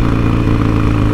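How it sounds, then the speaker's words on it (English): A Harley-Davidson Sportster's exhaust burbles with a loud, close, steady throb of rapid low pulses, running alone for about a second. "the exhaust is bloody awesome"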